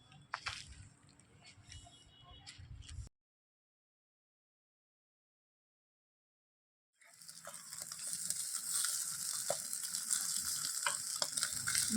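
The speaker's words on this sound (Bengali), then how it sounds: "তো বাকি যেটা রয়েছে ডিম, সেটাও এইভাবে ভেজে নিচ্ছি।" Beaten egg fries into an omelette in a pan with a soft, crackling sizzle and occasional stirring sounds. The sizzle drops out into a few seconds of silence, then returns steadier and brighter.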